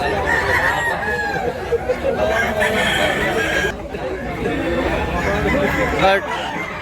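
Roosters crow and hens cluck nearby amid a busy, noisy crowd of chattering voices at a chicken market in Tabunok, Cebu.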